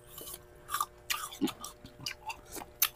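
Someone bites into and chews a crisp, crunchy apple up close during a mukbang, a quick series of sharp, irregular crunches separated by brief quiet gaps.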